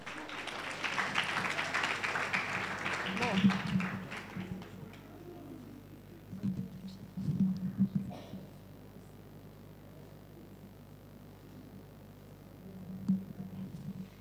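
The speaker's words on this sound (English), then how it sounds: "Give her a round of applause" Crowd in a hall claps for a school student winning a youth sustainability change-agent award, a dense burst of applause at the start that thins out within a few seconds before a voice speaks over the quiet room.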